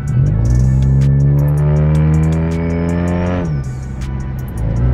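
A car engine with a turbo whistle revs hard and steady, a rising whine layered over the roar, dipping briefly near the end before picking back up, loud and close.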